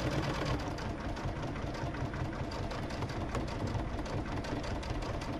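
A sewing machine runs steadily while stitching a fabric tote bag with white thread, giving a continuous dense mechanical whir at an even level that lasts the whole time with no talking.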